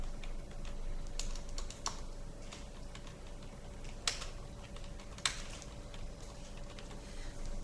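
Computer keyboard typing while setting up a word-processing document, with scattered soft key clicks and a few sharper taps over a faint steady hum, no talking.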